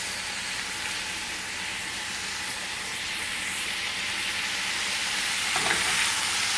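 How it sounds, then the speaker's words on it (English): Pulled jackfruit and sautéed onions sizzle in a pan over medium heat, a steady broadband frying hiss that runs close and continuous, with a brief stirring scrape near the end. "So once you add this jackfruit, the pulled jackfruit, into the sauteed onion, you're just going to mix it around."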